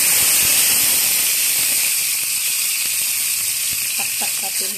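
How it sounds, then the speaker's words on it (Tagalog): Tomatoes and onions dropped into a hot pan for a Filipino pork dish with udon and sotanghon noodles, giving a loud, steady hissing sizzle throughout, with faint clinks of a utensil near the end. "So lagay na kagad natin sabay ang ating kamatis at saka sibuyas."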